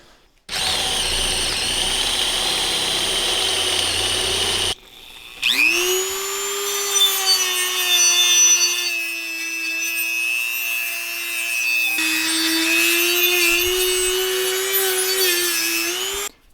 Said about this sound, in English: I'm going to enlarge those with this step bit